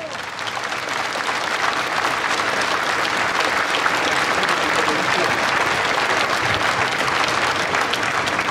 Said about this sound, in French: applaudissez les anciens que vous avez et que vous ne voyez pas